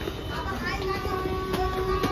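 A fast local commuter train rumbles with a steady mechanical hum and broadband rush, the noise continuous and fairly loud, with crowd voices murmuring underneath.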